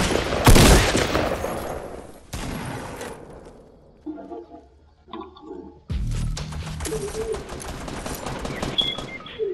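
Bursts of rapid automatic gunfire in the video game Fortnite, loud crackling volleys at the start and again after a quieter gap, with softer game effects in between.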